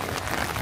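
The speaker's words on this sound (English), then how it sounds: "And enjoy the sounds of the rain." Steady rain falling outside during a heavy Oregon storm, a dense continuous hiss of drops with no voices, brief and fairly loud throughout.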